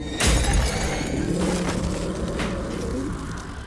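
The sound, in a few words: something pounding on a mirror, cracking the glass, in a film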